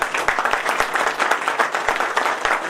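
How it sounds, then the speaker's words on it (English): A tech conference audience in India welcomes a star speaker with a strong round of applause; individual sharp claps stand out within the steady, loud clapping, and no one speaks over it. "Please have a big round of applause."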